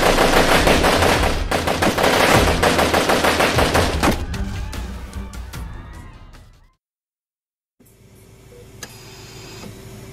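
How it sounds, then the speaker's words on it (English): A long, loud cartoon barrage of rapid gunfire, dozens of shots rattling in dense bursts that thin out and stop, then a brief silence before quieter ambient sounds resume. "They shot you like 50 times!"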